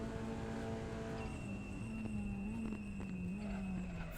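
Race car in the RaceRoom sim at the Nürburgring braking hard into the slow NGK chicane and dropping to second gear: a loud, continuous engine drone whose pitch dips and wavers as the car slows, with faint tire noise.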